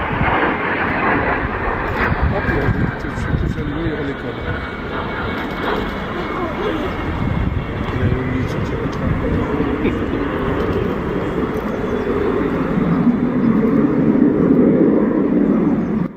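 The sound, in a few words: Fouga CM-175 Zephyr fighter aircraft doing a go-around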